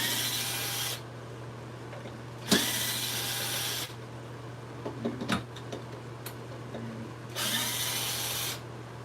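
A battery power tool loosens a lathe faceplate in three loud, close bursts of whirring with short pauses between them, plus faint clicks in the quiet gaps.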